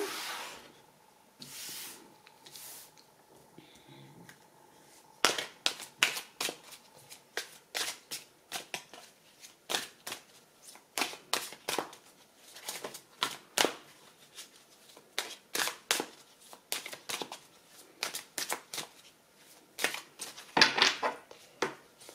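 Oracle cards are shuffled and drawn in a series of crisp, rapid riffling bursts and slaps, close and fairly quiet, with short pauses between handfuls.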